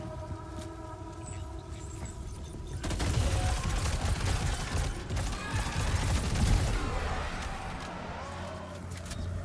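Automatic assault rifle fire in the video game Death Stranding 2, a dense fusillade of rapid shots that starts a few seconds in and rattles on loudly over a low game background.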